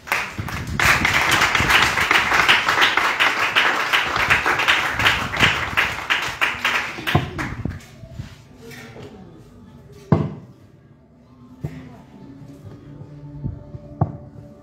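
Church congregation at a praise and worship service in Koumassi applauding: dense, sustained clapping from many people, fading partway through into scattered claps, taps and a few sharp knocks.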